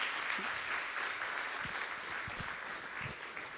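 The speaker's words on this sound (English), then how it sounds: "Big round of applause, guys." Sustained applause from a conference audience at a tech talk in Athens, steady and dense for several seconds with a few scattered louder claps, no talking over it.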